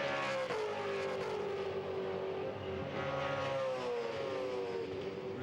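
V8 Supercar on a qualifying lap at Darwin, engine tone rising and falling with gear changes as it passes, a loud continuous high-pitched howl with a clear pitch sweep.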